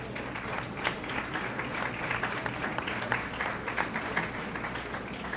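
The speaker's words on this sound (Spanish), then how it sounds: "Les pido un aplauso para ella." Audience applause at a university newspaper presentation, a steady wash of many hands clapping at moderate volume that holds evenly for several seconds with no talk over it.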